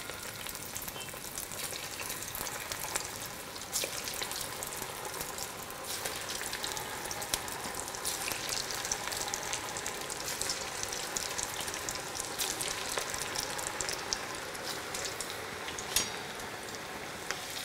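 Pieces of vadi deep frying in hot oil give a steady, dense sizzle with crackling and bubbling, close and loud, unbroken from start to end with no talking.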